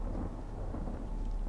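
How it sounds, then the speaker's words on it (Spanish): Low rolling thunder in the fantasy RPG Dragon Age II, a steady dull rumble with rain-like hiss, moderately quiet and continuous throughout, no voices over it. "Truenacos. Va a llover."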